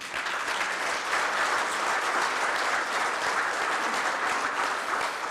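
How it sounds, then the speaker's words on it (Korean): A ceremony audience claps in a sustained, even round of applause at a Korea University launch event, a full crowd sound that holds steady from start to finish. "큰 박수로 맞이해 주시기 바랍니다."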